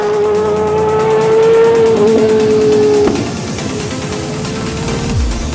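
GT race cars at full speed on the Spa-Francorchamps circuit, heading fast downhill toward the Pouhon corner, produce a loud, sustained engine drone that holds steady and then drops in pitch as the cars pass. Tyre noise continues underneath, and no one speaks.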